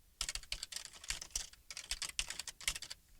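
Computer keyboard typing up close, rapid clusters of soft key clicks in quick bursts with short pauses between, fairly quiet and with no talking.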